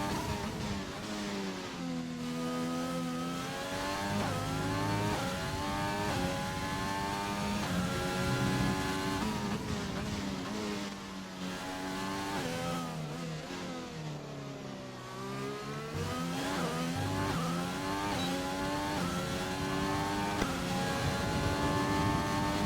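An F1 race car engine in a video game, racing a flying lap at the France round: a loud, continuous high-pitched whine rising and falling through gear changes and corners, with no voices.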